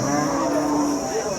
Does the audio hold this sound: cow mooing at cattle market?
yes